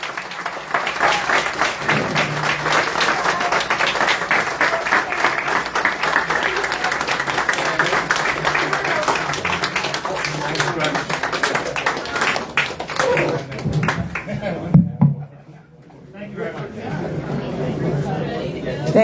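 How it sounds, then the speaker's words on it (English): An audience claps steadily for Democratic City Council candidates at an indoor event, dense applause mixed with crowd chatter and voices, briefly dropping near the end before the clapping resumes. "Let's give them a round of applause."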